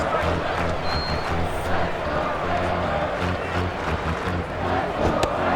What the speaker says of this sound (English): They're down by 1, but the fans are still cheering.